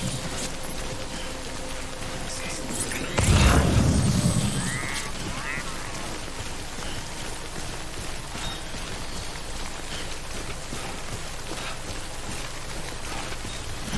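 Steady rain in the video game Death Stranding, a constant broadband hiss throughout with a louder watery burst near the start, and a voice speaking faintly in the background.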